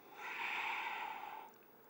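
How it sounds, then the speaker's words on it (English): A single slow, soft breath of air during a yoga plank, rising and fading over about a second and a half, close and quiet with no talking. "Slowly inhale and exhale."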